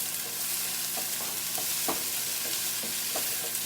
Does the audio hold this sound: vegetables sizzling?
yes